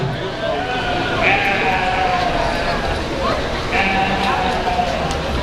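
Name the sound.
sheep bleating at livestock show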